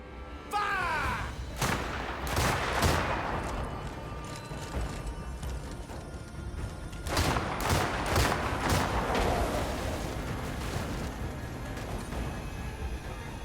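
Musket volleys fired by a line of musketeers in the game Crimson Desert, two separate bursts of overlapping sharp cracks several seconds apart, loud and close, with clattering and hoof-like knocks between them.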